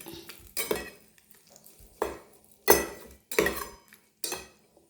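A spoon stirring tempering into bottle gourd curd pachadi in a pan, six distinct scraping clinks against the metal at uneven intervals, close and clear with quiet gaps between, no voices.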